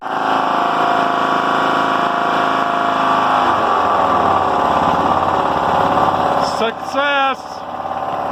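Small lawn mower engine running steadily on fresh fuel after a repair, a loud continuous drone with a brief revving surge near the end.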